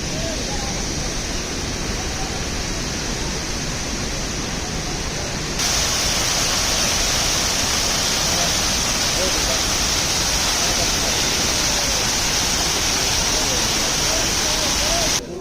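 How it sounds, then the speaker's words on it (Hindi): A mountain waterfall beside a river on the Amarnath Yatra route from Pahalgam roars as a dense, steady hiss that jumps louder partway through and stays constant to the end. "और इधर है झरना।"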